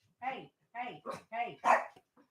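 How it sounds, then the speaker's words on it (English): A dog barks five times in quick succession, close and fairly clear, with a faint short yip at the end and nothing else in the background. "What are you barking at, baby?"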